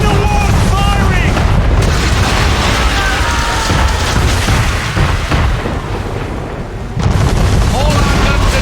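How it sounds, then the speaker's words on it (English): A man-of-war warship fires its cannons in Assassin's Creed III, with continuous heavy booming and rumbling explosions under loud battle noise and shouting voices, easing briefly before another strong blast. "Man of war firing!"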